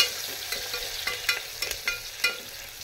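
Onions fry in a pan and are stirred, producing a close, even sizzle with a few quick scraping strokes over a short stretch.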